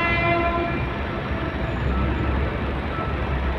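A train horn sounds in long steady blasts over the low rumble of a passing train at a Manila street crossing between Magallanes and Pandacan, loud and close throughout.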